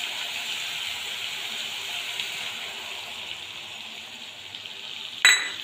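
Ground spices fry in oil in a pan with a steady, even sizzle that keeps on throughout, ending in a brief sharp scrape or clink near the close.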